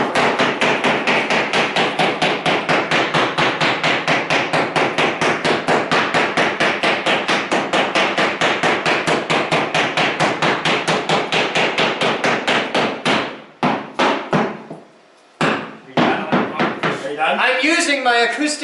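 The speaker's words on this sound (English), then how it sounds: "That's the hammer I need." Rapid, steady hammer blows on a job site, striking at a quick even rhythm for most of the stretch before breaking into irregular, spaced hits, with people talking briefly near the end.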